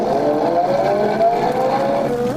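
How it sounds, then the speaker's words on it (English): A car engine hums steadily with a slowly falling pitch as the car drives into a garage, a close, continuous radio drama sound effect with no talk. "I'll just put the car in the garage."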